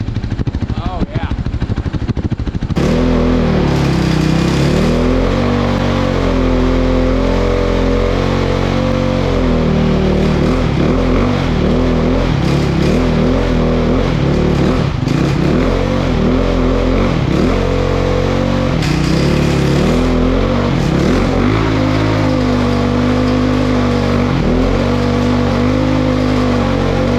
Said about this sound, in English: I think I'll fire this dirt bike up and burn the rear tire off of it